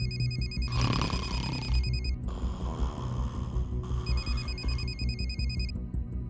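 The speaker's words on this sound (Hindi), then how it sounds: "वो गहरी नींद में सोया हुआ था कि तभी अचानक से उसका फोन बजा।" Electronic phone ringtone sounding loud and repeatedly over a busy background score, the beeping tone pattern recurring in bursts with no speech.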